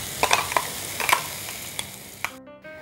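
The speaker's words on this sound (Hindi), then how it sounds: "अब इस ऑयल में हमने जो ये पेस्ट बनाया था वो डालेंगे और इसे 4 से 5 मिनट तक" Spice paste for paneer kalimirch frying in hot oil, a bright sizzle punctuated by several crisp spatula scrapes and clicks, fading near the end.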